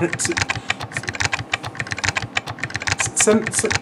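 Rapid, irregular clacking of keys on a computer keyboard, close and crisp, with a brief murmur of voice near the end.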